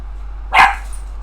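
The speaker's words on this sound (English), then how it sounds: "Stop barking." A single short dog bark in the video game Honkai: Star Rail, sharp and close, alone over a steady low hum.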